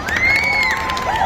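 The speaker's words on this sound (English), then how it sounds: "Any cheers from the crowd?" A crowd at a school science competition awards announcement cheers and shouts in a brief loud burst, with high whoops and children's voices rising together.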